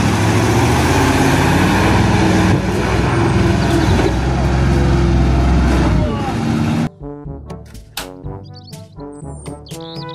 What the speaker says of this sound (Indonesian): Mobil, truk, tangki, air.